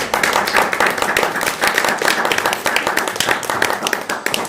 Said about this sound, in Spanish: aplauso sea más fuerte para Dios